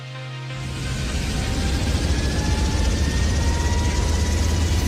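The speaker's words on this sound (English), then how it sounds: "this marked the first time a Blackhawk helicopter flew without anyone on board." A Black Hawk helicopter flying with no one on board, its engine and rotor roar building over the first second into a loud, steady, dense drone that holds to the end with no talking.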